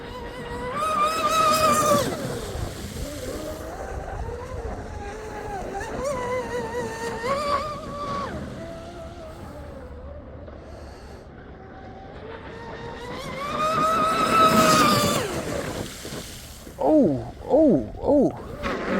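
A Blackjack 42 RC speedboat with outrigger running on water into the wind, its electric drive whining in rising and falling pitch as it passes, with brief choppy bursts near the end; no one speaks.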